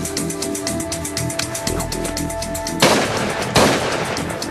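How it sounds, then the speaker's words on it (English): Two sharp shotgun blasts fired at grouse on open moorland, the first near the three-second mark and the second less than a second later, each loud and close over steady outdoor background noise. "Got two shots off. Missed both, unfortunately."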